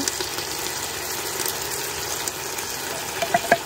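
Manwich Bourbon Barbecue sauce searing in a pot on high sear-saute mode, a steady close bubbling sizzle with a few louder pops near the end.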